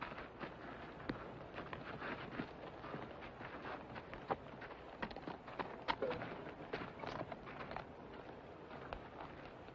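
Faint, irregular hoof clops of a horse walking at a distance in a 1964 western film, set against a steady background hiss.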